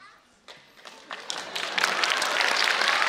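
A studio audience at a Chinese cross-talk comedy show breaks into applause that starts as scattered claps and quickly swells into steady, dense clapping that fills the room.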